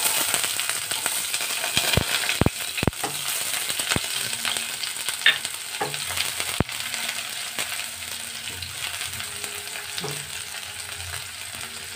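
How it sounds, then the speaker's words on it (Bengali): Chopped onion fries in oil for dal makhani with a continuous crackling sizzle, broken by several sharp clinks and scrapes of a spoon against the pan, close up and without any voices. "পেঁয়াজ কুচিটা হালকা লাল হয়ে আসছে।"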